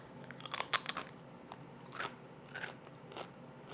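Crunchy baked ham meat chips, a keto snack, give a handful of crisp, close bites and crackling chews, loudest in a quick cluster early, then softer, spaced crunches in otherwise quiet surroundings.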